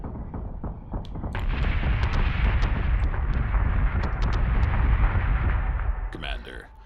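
Missile explosions in the space combat video game Battlestar Galactica Deadlock, a sustained roaring barrage of loud rumbling blasts with sharp cracks scattered throughout, swelling and then fading out.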